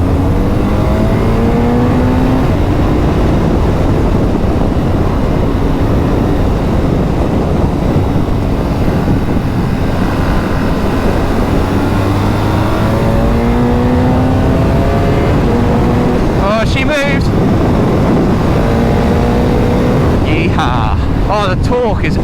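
A BMW R 12 nineT motorcycle from 2024, a heavy bike with a big engine, pulls hard while being ridden, its engine note rising and shifting under constant loud wind roar, with brief spoken moments near the end.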